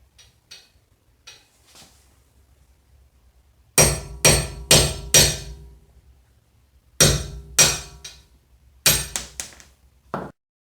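A hammer strikes a socket extension to drive out a front wheel stud on a 1997-2001 Toyota Camry, landing three loud metallic blows, a short pause, two more, then another burst of three and a final lighter tap, close and clear.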